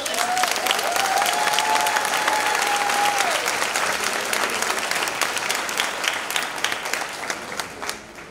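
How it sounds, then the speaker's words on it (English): Sustained applause from a large crowd at a high school graduation, dense and even throughout, with a brief whistle early on and a slight fade at the end. "give a round of applause to the family"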